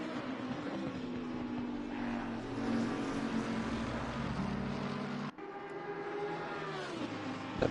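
McLaren GT3 race cars at Monza in Assetto Corsa Competizione, a steady loud engine drone with a pitch that rises and holds, briefly dipping near the end as gears shift, no talk.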